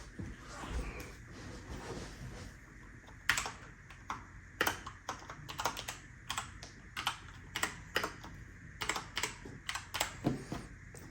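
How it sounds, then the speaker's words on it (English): Close, quiet typing on a Macally MKey keyboard: irregular clicky keystrokes tapping away at a steady pace, no voices. "Do a quick typing test here."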